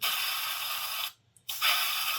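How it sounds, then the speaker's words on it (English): Blue spray paint hisses from a can onto a model kit, a loud steady spray that stops briefly for a short gap before resuming. "I'm just going to spray some blue in here."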